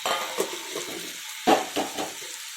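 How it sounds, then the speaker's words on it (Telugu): Broad bean pieces drop into a pan of softened tomato curry with turmeric and chilli, making a few close splashy thuds and clatters followed by a quieter sizzle and stirring sounds. There is no speech. "అప్పుడు చిక్కుడుకాయ ముక్కలు వేసుకోవాలి"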